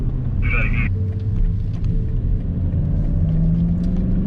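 A 2022 BMW i4 M50 electric car pulling away briskly, a low steady cabin rumble with faint electric whine and road noise, while people talk inside over it.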